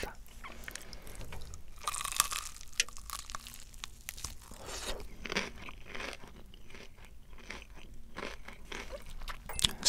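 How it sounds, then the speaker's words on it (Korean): Crunchy fried chicken, olive-oil fried with pink meat, bitten and chewed up close in a quiet setting, giving loud crisp crunches in an irregular rhythm with a few sharp bites and soft wet chewing between them. "일단 2번 치킨 바로 먹어보도록 하겠습니다"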